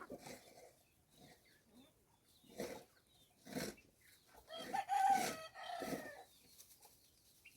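Chickens cluck in short bursts with a rooster crowing among them, close by, with brief quiet gaps between the calls.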